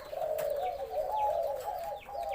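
A spotted dove chick coos softly in a steady, low, drawn-out tone with faint chirps over a constant background hiss, fairly quiet and alone.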